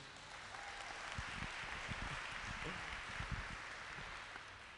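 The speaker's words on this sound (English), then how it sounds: "Can I get another round of applause for them?" At a Gary Middle College 2024 graduation ceremony, the crowd claps for the graduates: a soft, distant wash of applause, with scattered nearer claps standing out through the steady patter.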